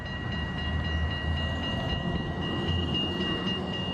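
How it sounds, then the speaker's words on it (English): Steady rumbling rail ambience with a sustained tonal hum fills the large train station in Amsterdam, constant and moderately loud with no talk. "now I'm at the large train station here"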